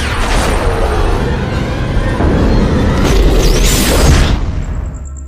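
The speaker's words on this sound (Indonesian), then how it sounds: "Setelah ledakan mereda," A loud, sustained explosive roar from an EMP blast destroying Sentinel machines in The Matrix film, with deep rumbling and crackling debris, holding strong for several seconds before tapering off.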